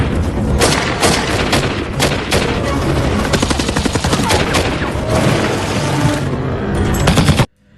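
A film gunfight in a forest: dense, continuous bursts of automatic gunfire and scattered single shots crackle loudly for several seconds, then cut off abruptly.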